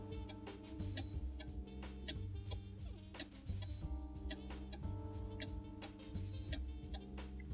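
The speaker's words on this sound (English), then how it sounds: "until the tick-tock of the pendulum becomes regular" A wall-hung cuckoo clock's pendulum ticks in a steady tick-tock rhythm, close and crisp, over a low constant hum that fills the room.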